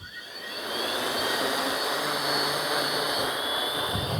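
Motors of a 13-inch FPV drone spin up and hold a steady whining, whooshing drone with high tonal hum, close and moderately loud, never lifting off, with no speech over it.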